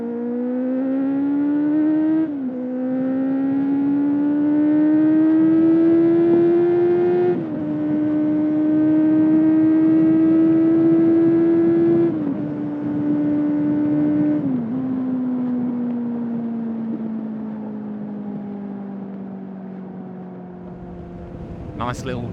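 Kawasaki Z800 motorcycle accelerating hard on a forest road, the engine note climbing in pitch through several gears with brief drops at each shift, loud and close from the rider's position, with wind noise underneath.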